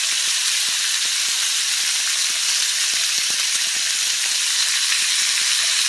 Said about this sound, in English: So we've got smoked sausage and bacon, and we're going to get it kind of brown